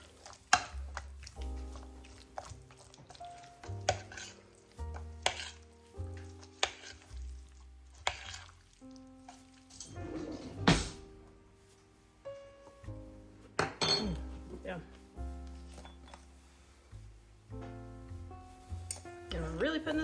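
A spoon stirs seasoned salt and mustard into food in a bowl, giving repeated scraping strokes and light clinks against the dish, along with soft kitchen clatter, quiet and close.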